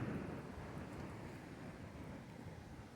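A big storm at Kalalau on Kauai brings a steady roar of wind and rain, rumbling low and broad like distant thunder, loud at first and easing slightly but never quite fading.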